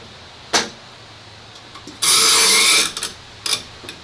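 Wooden pieces being clamped for a chessboard: a sharp knock, then a loud rasping ratchet of the clamp lasting almost a second, followed by a few more close clicks and taps in a quiet workshop.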